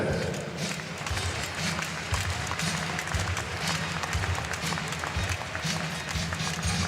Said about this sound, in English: Your applause, please.